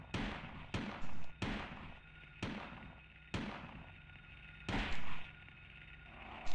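Gunshots in the video game Silent Hill ring out as sharp, loud cracks, about seven of them at uneven intervals, with short gaps of quiet room tone between.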